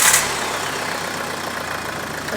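A Ford Mondeo Mk4 with the 2.0 Duratorq diesel catches with a brief burst of noise, then settles into a steady, even idle clatter close by, with no talk.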